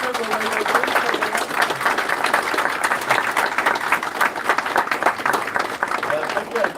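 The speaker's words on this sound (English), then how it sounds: "ladies and gentlemen, can we give Giles and Jeff a big round of applause?" A crowd claps steadily in sustained applause, dense and even for several seconds, with some voices mixed in.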